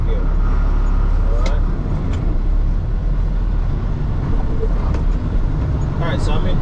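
A Kenworth T880 truck with a 10-speed transmission rolls slowly in a low gear, its deep engine drone and road rumble steady throughout, with a few clicks and knocks from the cab.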